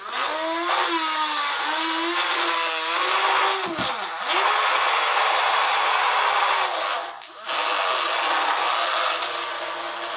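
A small, basic electric motor runs with a high, buzzing whine that wavers in pitch and cuts out briefly twice before starting again. It sounds loud and close.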